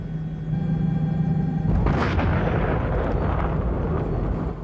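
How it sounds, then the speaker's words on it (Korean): A tanker truck explodes in a gas fire amid bursting household gas cylinders, a loud sudden boom at about two seconds followed by a sustained roaring rumble of flames, with a steady low hum beforehand. "곧이어 또 다른 탱크로리가 폭발합니다"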